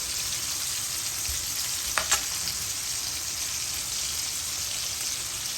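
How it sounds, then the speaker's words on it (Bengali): Fish frying in a pan gives a steady, close sizzle that runs unbroken throughout, with a couple of brief utensil clicks near the middle and no talking. "আমি ফিশ ফ্রাইটা করি যেভাবে অনেক মজা হয় এটা খেতে"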